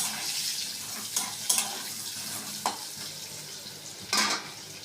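Potatoes coated with salt and turmeric fry in oil with a soft, continuous sizzle, broken by several sharp scrapes and clinks of a spatula stirring in the pan.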